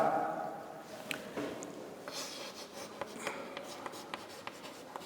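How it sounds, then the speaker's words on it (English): A pen scratches across paper as given data for a naval ship problem is written out in an engineering lecture: quiet, close strokes with intermittent sharper taps and ticks over a soft room hiss. "I will write down the given data."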